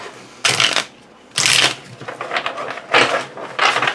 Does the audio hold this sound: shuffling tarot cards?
yes